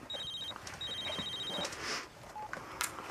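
A telephone rings electronically in two clear, repeated high bursts, close and steady over a quiet indoor background, with no talk.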